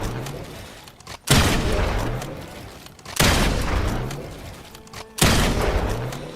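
Three loud video game gunshots fire at roughly two-second intervals during practice of double edit and shoot moves, each a sharp crack with a booming tail that fades before the next, with no talking.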